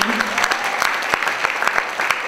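Audience applause for third graders at a school MLK All Stars event, a short burst of steady clapping from a crowd with scattered sharp individual claps.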